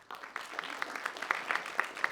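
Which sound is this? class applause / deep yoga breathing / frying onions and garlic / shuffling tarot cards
class applause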